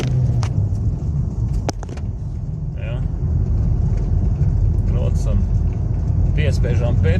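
A BMW X3 with an ABS fault code 5E5C drives along, giving a steady low engine and road rumble heard from inside the cabin, with people talking briefly over it.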